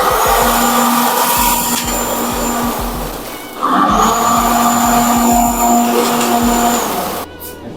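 Several cold spark machines run an effect with a steady loud roaring hiss and a sustained tone, broken by a brief dip partway through before the roar returns and then cuts off at the end.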